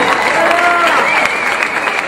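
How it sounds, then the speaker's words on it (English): An audience at a conservative political event in Orlando, Florida, gives sustained loud applause mixed with cheers and whoops for a group of kids, a dense crowd wash with voices shouting over it. "Give them another big round of applause."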